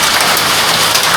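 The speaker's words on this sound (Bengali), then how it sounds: "বহুত দিন বাদে কলকাতায় আবার শিলা বৃষ্টি দেখছি" A hailstorm in Kolkata pours down, hailstones and rain drumming steadily and densely on surfaces close by, a continuous loud hiss and patter with no pauses and no voices.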